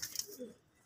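Pigeons kept in a loft, males in breeding heat, give a soft, faint low coo lasting a fraction of a second against a hissy background.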